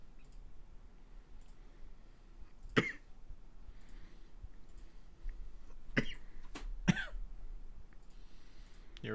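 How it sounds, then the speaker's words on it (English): A person coughs a few separate times, with short sharp bursts spaced several seconds apart against a quiet indoor background. "He's making fun of me for coughing."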